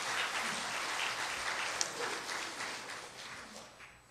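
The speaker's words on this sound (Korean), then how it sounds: "이럴 때는 다 같이 박수를 한번 치는 겁니다." A church congregation claps together during a sermon, a steady wash of applause that holds for several seconds and then tapers off.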